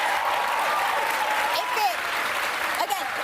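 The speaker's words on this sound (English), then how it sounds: "I know everyone's cheering in here again" A television studio audience cheers and applauds during a live news segment, a dense, steady wash of clapping and crowd noise running throughout with a few voices rising above it.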